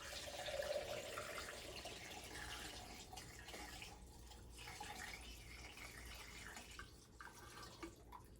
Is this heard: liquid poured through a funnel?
yes